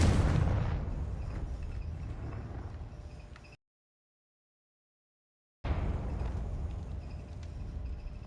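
The Confringo blasting spell in Hogwarts Legacy bursts with a loud, booming, broadband explosion that decays into a rumbling roar, cut by a stretch of silence before the rumble resumes.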